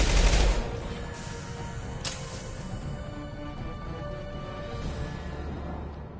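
Suppressive gunfire rattles in Mass Effect 2 as a strong opening burst fades into a steady wash of continuous shots and battle noise, no voices.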